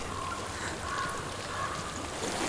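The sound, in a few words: flowing water in a video game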